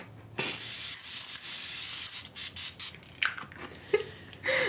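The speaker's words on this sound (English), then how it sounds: "we're gonna take the Evian Mist Spray" An Evian facial mist spray hisses in one long, close burst onto a face, followed by a few shorter puffs and small handling sounds.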